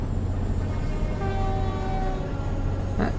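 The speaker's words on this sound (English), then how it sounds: "Train going past." A train passing in the trucking game Euro Truck Simulator 2: a loud continuous rail rumble with a sustained horn tone partway through, steady and close, with no talking.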